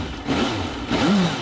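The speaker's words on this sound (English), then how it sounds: "It's another inline four-cylinder, double overhead cam, 16-valve, liquid-cooled, fuel-injected, six-speed gearboxed, silky smooth, slick-as-you-like engine." A Suzuki GSX650F's liquid-cooled inline four-cylinder engine runs steadily up close, with a smooth hum and a mild rise in revs, heard alone.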